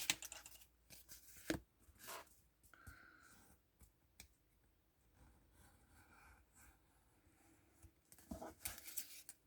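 A craft knife cuts paper for a Christmas napkin holder, with quiet, scattered scratchy slices and clicks, a few sharper bursts between near-silent pauses, close and faint.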